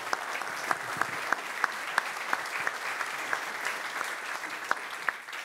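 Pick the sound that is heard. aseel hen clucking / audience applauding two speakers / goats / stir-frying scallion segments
audience applauding two speakers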